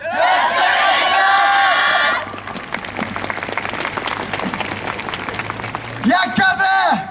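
A crowd at a Kyoto yosakoi-style dance performance bursts into loud applause and cheering, then keeps up steady rhythmic clapping along under music, with voices calling out near the end.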